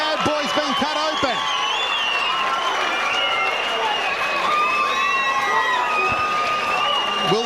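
A boxing crowd roars and cheers continuously at a fight as a fighter bleeds from a cut, with loud, dense overlapping shouts and whistles filling the whole stretch.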